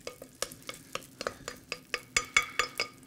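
Grated potato base frying in a pan, with a quick series of sharp scraping and tapping strokes over a soft sizzle, close and moderately quiet, the strokes growing denser toward the end.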